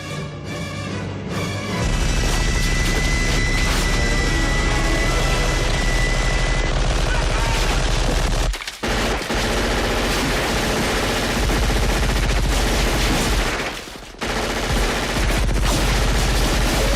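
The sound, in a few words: movie gunfire, crew shooting into the jungle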